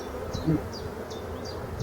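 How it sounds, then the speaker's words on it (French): Black honey bees buzz around an open hive, a steady low drone with a few louder passes close by and faint chirps over it. "comme ce sont de belles abeilles noires ici, plein de mâles comme ça sur le secteur"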